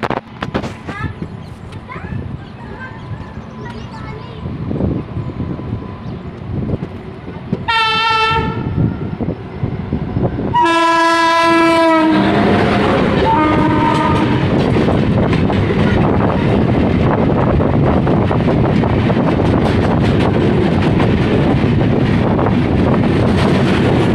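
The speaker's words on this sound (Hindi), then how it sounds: "वहाँ ट्रेन ने भी हॉर्न बोल दिया।" An Indian Railways WAG-7 electric locomotive hauls a train past on the outer approach to Itarsi, its loud two-tone horn sounding in bursts before a steady, close rumble of wagons rolling by, with wind buffeting the microphone.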